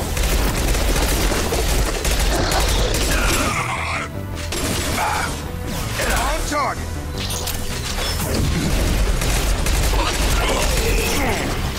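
Weapon fire and mechanical clatter from the Mass Effect video game fill the whole stretch, with bursts, impacts and rattling effects running continuously under steady game noise while a voice talks over it.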